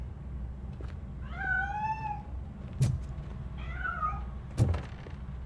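Cat meowing in the RoboCop: Rogue City video game, two drawn-out meows a couple of seconds apart, with a couple of soft thumps and a low steady background hum.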